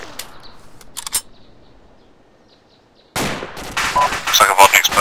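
Machine gun fire in the military shooter Arma: a few sharp bursts open, then a near-silent lull, then a loud, sustained wall of heavy gunfire and explosive noise to the end.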